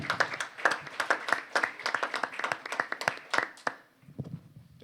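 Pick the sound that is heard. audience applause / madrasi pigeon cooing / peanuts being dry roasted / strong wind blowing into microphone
audience applause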